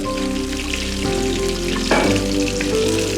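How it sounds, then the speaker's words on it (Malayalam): Chicken wings deep frying in a pot of hot oil, a steady close bubbling sizzle with crackling spatters that swells briefly midway, alone with no talk. "നമ്മുടെ ആദ്യം നമ്മളിട്ട ബാച്ച് എല്ലാം ഫ്രൈ ആയിട്ടുണ്ട്."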